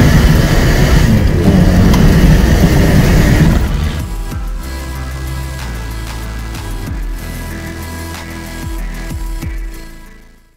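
A Peugeot 205 HDI diesel fitted with an Iveco injection pump, prepared for dust racing, revs hard and loud for several seconds, then drops to a steady idle with faint mechanical clatter.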